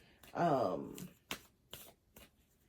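Tarot cards riffle-shuffled in one quick flutter, followed by a few sharp taps and soft slaps as the deck is squared up.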